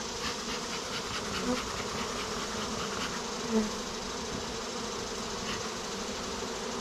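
A swarm of honey bees buzzes steadily and fairly faintly, a continuous dense hum of many wings close by with small flickers as individual bees pass.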